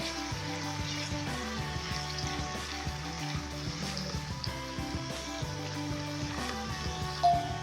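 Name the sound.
onions frying in a pan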